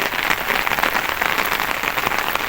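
Heavy monsoon rain pours down steadily in a hilly, landslide-prone area, a dense, even hiss of countless drops hitting the ground with no pauses.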